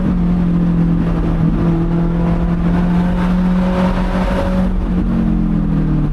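A car drives a winding back road near the Gotthard Pass, its engine a loud, close, steady hum that holds pitch, then dips around the midpoint as it slows for braking before pulling again, with road and wind noise underneath and no talking.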